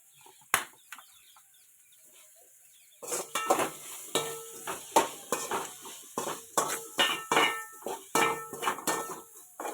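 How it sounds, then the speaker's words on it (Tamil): Onions sauté in a pan for egg curry, a near, steady sizzle broken by brisk, repeated spoon scrapes and clanks against the pan; a lone clink comes first, then quiet before the stirring begins. "வெங்காயத்தை போட்டு நல்லா வதக்கி விட்டுருங்க."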